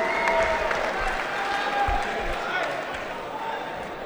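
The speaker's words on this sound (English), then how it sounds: "Let's have a warm round of applause and welcome" A fight-night crowd at a gym boxing card applauds and cheers as a boxer is welcomed, a steady roar of clapping under a loud announcer's voice throughout.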